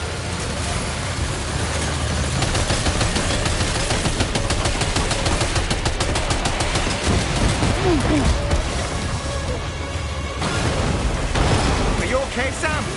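Sustained gunfire in the video game Death Stranding 2, a dense rattle of rapid shots and bursts running continuously and loudly, with voices speaking throughout.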